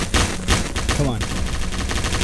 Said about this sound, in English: He's got automatic rifle.